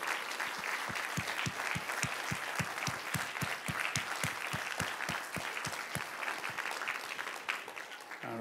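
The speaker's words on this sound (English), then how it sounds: "we can give them a round of applause here" An audience at an Army Cyber Institute talk claps for the event organizers, a steady, evenly paced run of sharp claps that sounds almost rhythmic, continuing for several seconds before easing off slightly at the end.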